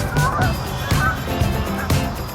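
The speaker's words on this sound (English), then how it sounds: "Okay, a bunch of geese." Geese honk repeatedly overhead in Washington, DC, several loud nasal calls spaced about half a second apart over a steady outdoor background.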